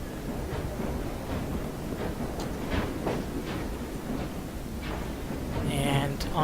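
A moving train in Assassin's Creed Syndicate rolls along with a steady, dense rumble and rhythmic clatter throughout, a few brighter clicks and a faint chime near the end, while someone talks over it.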